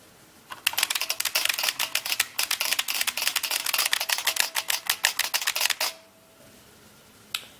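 Keys on an early-1980s IBM Model F keyboard clack loudly and rapidly in a close, steady burst of typing for about five seconds, then stop, followed by one last click.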